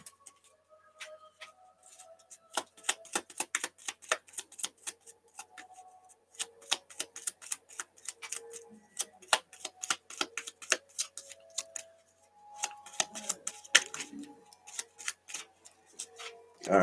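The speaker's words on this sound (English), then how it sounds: "let's shuffle Arwen's deck" Cards from a deck being shuffled for a Middle-earth board game, giving a long run of quick crisp clicks and riffles in uneven bursts, close and fairly quiet with no voices.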